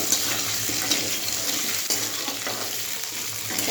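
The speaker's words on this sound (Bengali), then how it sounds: "কষানো হচ্ছে।" Taro, potato and prawn curry with onion sautés in a pan, a continuous close sizzle with soft scraping and stirring strokes throughout, moderately quiet and steady, no voices.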